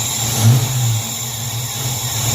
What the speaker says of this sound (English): All right, at least it runs now.